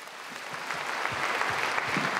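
Concert audience applauding at a jubilee concert in Heydar Aliyev Palace, a steady dense wash of clapping that holds throughout and swells slightly toward the end.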